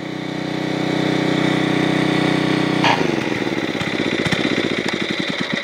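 A Generac 750 watt portable generator engine runs steadily with a saw drawing load on it, then stumbles partway through and carries on in an uneven, pulsing labor. It is close and loud with no voices.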